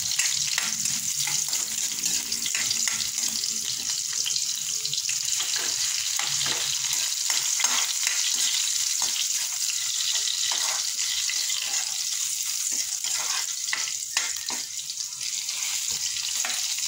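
Garlic frying in a pan, a steady bright sizzle with small crackles and occasional stirring clatter, holding at one loud level throughout with no voices.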